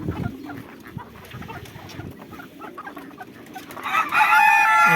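Hens cluck and mutter close by, then a rooster's loud crow rises at the end over the continuing clucking.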